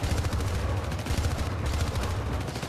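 Gunfire in the video game Syndicate, dense rapid shots blending into a loud, continuous automatic-fire barrage that stays close and intense throughout.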